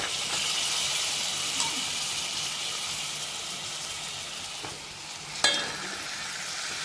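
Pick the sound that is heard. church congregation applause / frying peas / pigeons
frying peas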